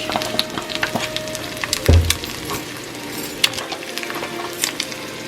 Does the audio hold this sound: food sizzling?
yes